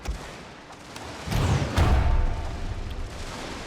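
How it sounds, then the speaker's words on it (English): Mortar fire in a war strategy game set in Russia, with a couple of deep booms around the middle, then a rumbling tail fading under steady background battle noise. "Mortars should be firing."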